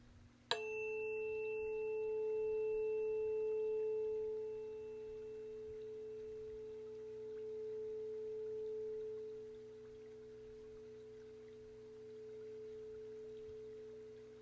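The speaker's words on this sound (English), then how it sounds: "Tuning fork." A tuning fork in a sound-healing session is struck once and rings as a pure, steady tone that sustains for many seconds, gently swelling and wavering as it hangs alone.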